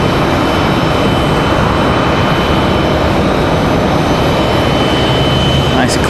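A CRJ regional jet departs Raleigh Durham airport, its engine roar a loud, steady broadband rush that fills the whole stretch from start to finish.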